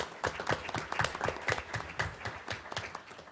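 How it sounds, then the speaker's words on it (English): A small community audience gives a round of applause for a local swim team, with individual claps standing out in a loose, uneven rhythm. The clapping sounds close and moderately loud throughout. "So I got to give the swim team a big round of applause."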